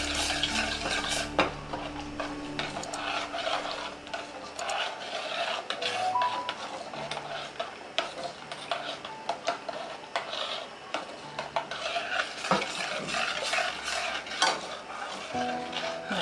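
A utensil stirs gelatin in a pot in a kitchen to dissolve it, giving continuous scraping and clinking at close range with irregular taps against the pan and no talk.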